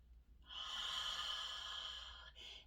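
A single slow, deep breath during a meditation session, a long airy exhale that swells and fades over about two seconds, then the start of another, close and quiet with no talking.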